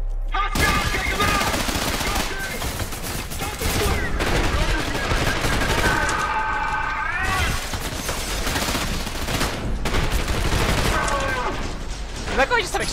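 Dense, continuous gunfire from the first-person shooter Trepang2, with heavy automatic volleys and chaotic shots layered over game effects, loud and sustained, with voices shouting over the fighting.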